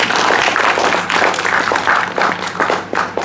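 A lecture-hall audience applauds a speaker after an introduction, dense continuous clapping from many hands, loud and close, fading slightly in waves.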